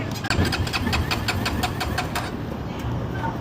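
A car engine out of fuel cranks repeatedly without catching, a rapid pulsing starter churn that runs steadily for about two seconds, then gives way to a low rumbling background.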